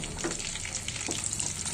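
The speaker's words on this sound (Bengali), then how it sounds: "প্রথমে এই তেলের সাথে আমি একটি তেজপাতা, 3টা শুকনো মরিচ আর সামান্য পাঁচফোড়ন দিয়ে নেব।" A bay leaf, dried chillies and panch phoron fry in hot oil with a brief, continuous close hiss and faint crackling, no voices.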